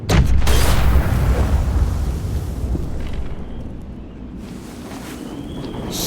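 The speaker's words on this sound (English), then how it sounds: "Shit, the bomb!" A bomb goes off in The Walking Dead: The Final Season video game, a loud deep boom at the start that fades into a long rumbling, windy roar.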